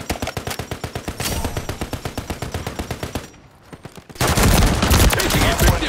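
Rapid automatic gunfire in a military shooter video game, loud and close, with sustained bursts of rhythmic shots, a brief lull, then a denser, heavier barrage of fire.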